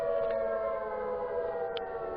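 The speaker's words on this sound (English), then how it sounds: "Why are there sirens?" A civil defense warning siren wails outdoors in a steady, sustained drone with layered harmonic tones, loud and unbroken throughout.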